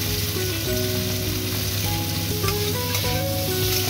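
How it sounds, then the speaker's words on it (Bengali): Chopped onions fry in hot oil with a loud, continuous close-up sizzle and bubbling, steady throughout with faint tonal hum in the background and no voices. "এই তেলের মধ্যে আমি পেঁয়াজ দিয়ে দেব।"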